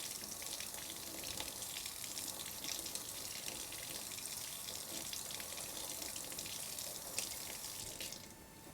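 Tap water runs steadily into a sink as fresh herbs are washed, a continuous close hiss and splash with no talking, easing off near the end.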